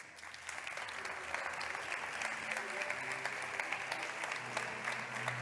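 Sustained applause from a conference audience welcoming a speaker onto the stage, dense steady clapping with faint crowd murmur and music underneath, moderately distant.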